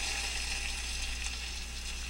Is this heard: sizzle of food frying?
yes